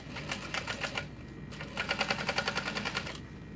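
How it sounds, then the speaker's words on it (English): A sewing machine topstitching a beachcomber pouch at a long 4.5 stitch length runs in two quick, rhythmic bursts of stitching separated by a short pause, close and fairly quiet. "then I'm going to top stitch this up as well"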